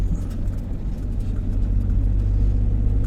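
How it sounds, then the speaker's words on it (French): A camper van drives through Hyères, a steady close low engine rumble and road noise throughout with no talk. "Je vais y aller en camion."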